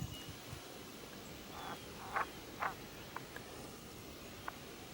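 A few brief frog croaks stand out from a quiet outdoor background of faint insect hum, spaced irregularly and fairly distant.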